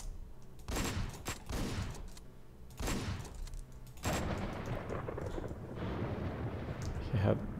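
Gunfire from the top-down action game Hotline Miami 2: several sharp, loud shot bursts at irregular intervals, including a close pair early on, ringing over a busy game soundtrack.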